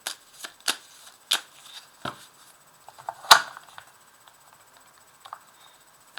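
Oracle cards are shuffled by hand for a reading, giving close, crisp riffling snaps and light paper taps in an irregular rhythm with quiet gaps between.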